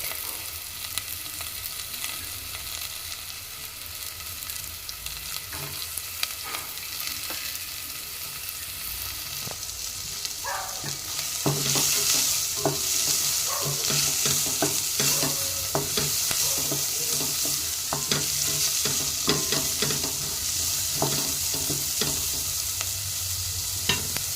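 Chopped carrot frying for upma sizzles steadily in a pan while a spoon stirs and scrapes at it. The frying grows louder about halfway through, and the rhythmic stirring stays close with no talk.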